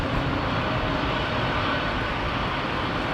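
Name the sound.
Boeing 787 Dreamliner jet landing in strong wind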